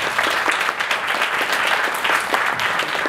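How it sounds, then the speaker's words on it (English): Guests at a marketing event in China get a full round of applause: dense, steady clapping from a sizable crowd, loud and close, lasting about three seconds with no pause. "maybe a round of applause for the guests"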